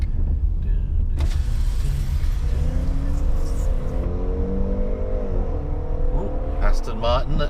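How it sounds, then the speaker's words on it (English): An Aston Martin accelerates away at a distance, its engine note rising in smooth harmonic sweeps over steady car-park rumble, with some speech around it. "Aston Martin accelerating away over there, sounds pretty nice."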